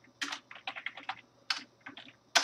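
Code being typed on a computer keyboard, a close series of crisp key clicks in uneven bursts with short pauses and a louder keystroke at the end, no talking.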